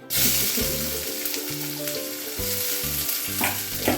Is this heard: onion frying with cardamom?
yes